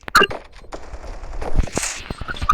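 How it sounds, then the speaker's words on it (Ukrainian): Rapid bursts of video game gunfire, sharp cracks and short rattling volleys, fairly loud and close. "Настя, не стріляй"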